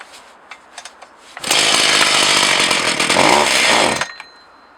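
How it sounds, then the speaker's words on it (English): Partner 20 X Power chainsaw engine, still slightly warm and started without choke, fires up loudly after quiet rustling and runs for under three seconds before cutting out abruptly. "I put in the decompression valve, put it on start."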